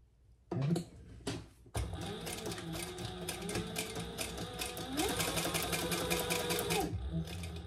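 A sewing machine stitches under a leather card slot on a Jordan-style pouch: a steady rapid mechanical whir runs alone for several seconds after a few short starts, close and loud.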